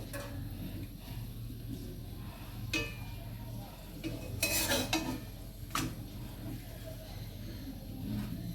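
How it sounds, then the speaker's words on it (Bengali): A roti fries in an oil-coated wok (kadai) while an egg paratha is made: a steady low sizzle runs under occasional sharp metallic clinks and scrapes of a utensil against the pan, all close up. "আমি প্রথমে রুটিটাকে ভেজে নেব যাতে তেলটা কম লাগে। রুটিটাকে ভাজছি কড়াইতে দিয়ে।"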